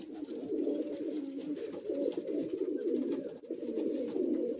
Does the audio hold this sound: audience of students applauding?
no